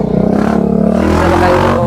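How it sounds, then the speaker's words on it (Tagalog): Motorcycles and other traffic roar past nearby on a busy street, a loud continuous engine rumble with rising revs and some clatter, filling the whole stretch with no talk. "kasi maraming mga motor na naman"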